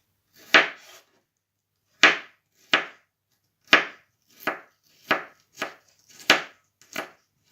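Garlic being chopped into small pieces with a knife on a board, about ten sharp, distinct knocks in an uneven rhythm with quiet gaps between, close and crisp with no talking.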